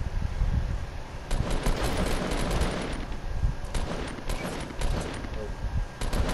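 Rapid gunfire in Fortnite, dense overlapping shots and bursts running through the whole stretch, loud and close, with players talking over the shooting.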